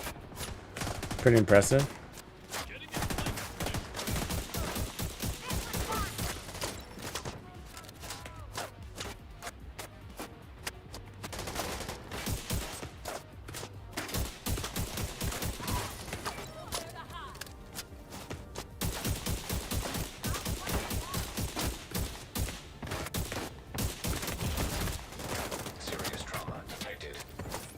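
An automated turret in The Division 2 fires continuously, a long stream of rapid gunshots that runs throughout with brief lulls. A person says a few words over the shooting.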